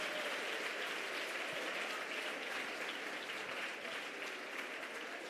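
A large commencement audience at MDC claps continuously for Secretary of State John Kerry, a broad, uniform wash of applause holding steady from start to finish.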